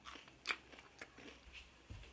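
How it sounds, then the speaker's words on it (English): Garlic bread bitten into with a quiet crisp crunch near the middle, followed by a few faint crackly chews and soft handling noises, close and otherwise silent. "Do you hear that crunch?"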